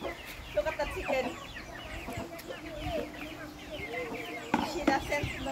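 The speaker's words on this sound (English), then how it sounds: "Look at that chicken." Chickens cluck and chatter in a farmyard, a busy run of short soft clucks and calls with a few sharper squawks near the end, fairly close.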